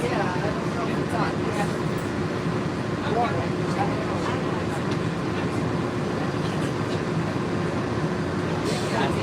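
A park train ride rolls along at night in Florida, a steady low rumble of wheels and cars under continuous chatter from people aboard.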